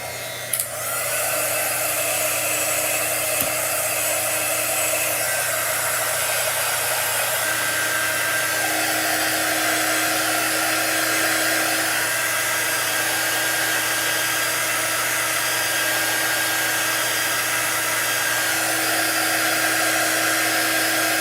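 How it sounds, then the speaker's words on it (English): A hair dryer blowing over small chalk-painted craft pieces, a loud, steady whirring roar that starts after a brief click and holds unbroken for about twenty seconds. "Let's just blow them dry a little bit here."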